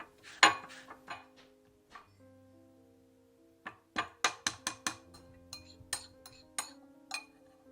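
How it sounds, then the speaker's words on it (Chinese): Dried tangerine peel (chenpi) being grated for a blueberry pie filling, heard as a series of sharp, close scraping clicks and clinks in irregular bursts, with quiet gaps and a faint hum underneath. "刨一点陈皮"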